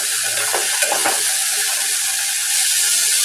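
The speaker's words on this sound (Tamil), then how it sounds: "இப்போ அந்த ஆல்ரெடி உள்ள எண்ணெயிலேயே இந்த காய் எல்லாத்தையும் லைட்டாக வதக்கி விடுங்க." Chopped vegetables for sambar sizzle steadily in hot oil in a pan as they are lightly sautéed, with a few soft scrapes from stirring near the start and no talking.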